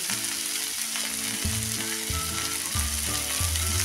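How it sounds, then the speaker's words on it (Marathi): Tomatoes fry in a pan with coriander and kasuri methi for a dhaba-style cashew masala, giving a close, steady sizzle with faint stirring scrapes, while tonal background music plays underneath and nobody speaks. "बघा टोमॅटो आपण 2 मिनिटं परतून घेतलेला आहे। त्यात आता टाकूया ही कोथिंबीर आणि कसुरी मेथी"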